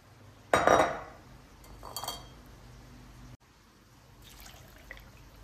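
A lid is set on a metal pot of chicken curry in a kitchen with one sharp, loud metallic clank. A softer clink follows a second later, and then there is quiet room tone with no talking.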